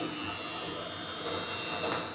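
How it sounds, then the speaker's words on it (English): Steady whirring hum of a bathroom exhaust fan running in a hotel washroom at a resort in Kenya, a constant broadband drone with a faint tonal whine, unchanging throughout. "That's the sound of a fan that is clearing the air inside here."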